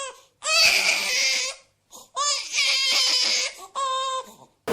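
Infant crying loudly in a Haryanvi family drama scene, several long wailing bursts separated by short gasping pauses, close and intense.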